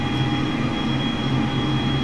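Boeing 747 jet climbing out after takeoff from Tallahassee, heard from inside as a steady, loud, broad roar with a low engine hum and no voices.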